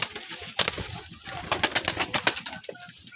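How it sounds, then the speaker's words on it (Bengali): A young native pigeon coos in short, soft pulsing calls close by, a rhythmic series of low throaty bursts with faint rustling between them. "এটি একটি দেশি কবুতরের বাচ্চা"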